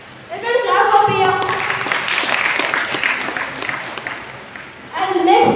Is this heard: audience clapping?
yes